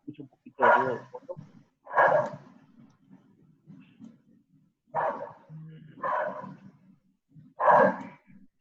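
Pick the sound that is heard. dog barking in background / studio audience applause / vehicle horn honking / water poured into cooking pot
dog barking in background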